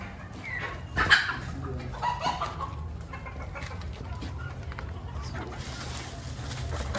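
Local chickens cluck in an outdoor backyard flock of about thirty birds, a steady murmur of clucks with a few sharper calls, under ambient farm noise and occasional distant voices.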